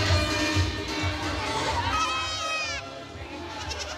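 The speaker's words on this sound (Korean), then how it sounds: "염소 한 마리로 이 마을은 활기를 얻었습니다." A goat bleats once, a wavering, drawn-out cry, in an African village, over the murmur of a crowd and children's voices.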